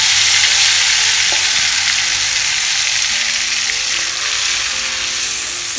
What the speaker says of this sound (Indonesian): Ini kita tumis dulu sampai bumbunya wangi.